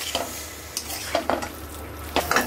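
Spices frying in oil in a pan for chalta (elephant apple) pickle, a quiet sizzle with intermittent clinks and scrapes of a spoon stirring, close and without talk.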